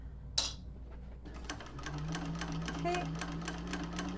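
A sewing machine stitching a seam on a Konin bowler bag, starting after a brief spoken word and a small clatter, then running steadily with a fast, even needle rhythm at close range.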